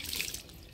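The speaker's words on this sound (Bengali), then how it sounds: "হাঁড়িটা পরিষ্কার করে ধুয়ে নিলাম" A brief splash of running water rinses a clay cooking pot, soft and close, under a second and fading slightly toward the end.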